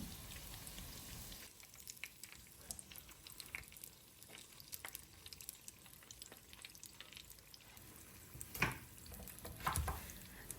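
Chicken and vegetable spring rolls, an Iftar snack, frying in hot oil, a faint steady crackle and sizzle with occasional louder pops and stirring near the end, no voices.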